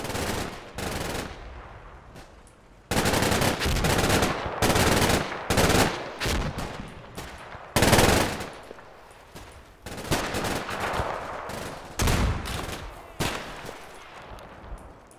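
Machine-gun fire in the WWII tactics game Combat Mission: Red Thunder, loud repeated bursts of rapid shots with short gaps and echoing decay, during a German defense at a riverbank, with no talk.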